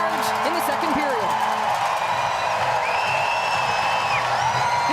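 A crowd cheers in a hockey arena for the Ottawa Charge during a PWHL playoff game, a dense steady roar of voices and whoops under a commentator speaking over it.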